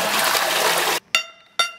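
Running water from a film soundtrack, a steady broadband wash that stops abruptly, followed by two short bright clinking bursts.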